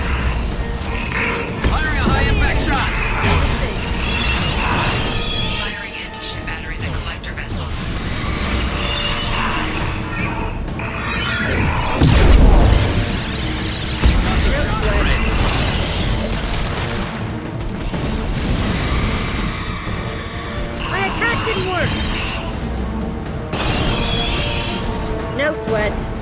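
High-impact cannon shots in Mass Effect 2 fire in a dense, loud barrage of booms and mechanical clatter, with a deep blast near the middle and voices talking over the action.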